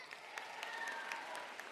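An audience at a closing ceremony for a fundraising cause claps in a brief burst of applause, moderately distant and even, with no talk over it.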